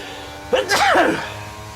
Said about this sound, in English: I'm going to sneeze any second, aren't I?